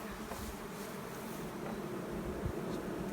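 Honey bees buzz around fat, honey-filled hive frames on a pasture, a dense continuous hum with nearby individual bees drifting in and out, fairly soft and without voices.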